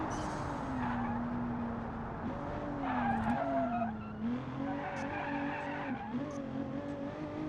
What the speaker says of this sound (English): A little bit of drift coming up that turn there.